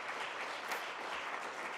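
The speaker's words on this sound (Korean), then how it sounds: "우리 한번 박수 한번 하시죠" A congregation in church applauding in unison, a brief, dense burst of clapping at steady volume throughout.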